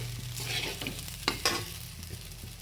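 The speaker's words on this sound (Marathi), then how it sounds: "सुरुवातीला मोठ्या गॅसवर परतवायची आणि नंतरून थोडा गॅस कमी करायचा।" Sabudana khichdi being stirred in a pan, a soft scraping and rustling with light frying sizzle throughout, a couple of sharper spoon scrapes standing out near the middle.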